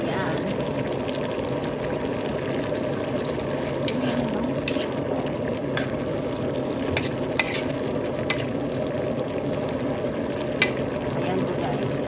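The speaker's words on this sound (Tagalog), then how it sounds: "Tapos, hulog na po natin yung ampalaya. Tapos yung okra guys." Bitter gourd and okra go into a frying pan and are stirred in oil. A constant sizzle runs throughout, with scattered utensil scrapes and clicks on top and a voice talking over it.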